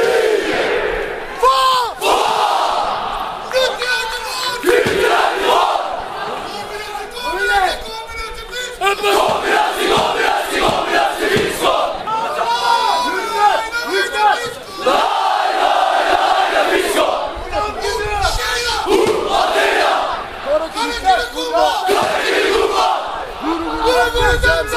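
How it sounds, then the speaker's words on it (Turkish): Football fans in a Turkish stadium stand roar a loud, sustained chant together, a dense wall of many voices rising and falling in rhythmic waves for the whole stretch with hardly a pause. "Hayatımda duyduğum en ilginç tezahüratlardan birisiydi."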